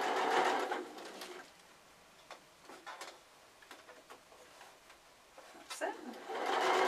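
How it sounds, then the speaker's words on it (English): A sewing machine top stitches through folded fabric layers on a padded iPad case, running in short bursts between louder stretches of talking at the start and end. "I'm just going to top stitch to hold those layers in place."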